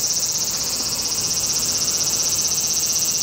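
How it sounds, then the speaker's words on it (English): A cicada's loud, steady high-pitched buzz drones continuously up close in Akihabara, Tokyo, with a faint pulsing texture and no voices. "There's a cicada up close for you."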